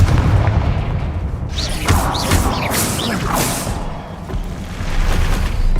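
Confringo explosion spell cast in a Harry Potter video game, a loud continuous booming roar with swooshing bursts layered through the middle, steady and close throughout.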